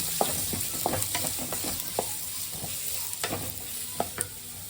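Onion frying in a pan, a soft steady sizzle broken by repeated clicks and scrapes of a spatula stirring, close and fairly quiet.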